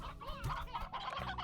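Hens cluck in the Slime Rancher video game, a quick cluster of close, soft clucks and squawks heard on their own.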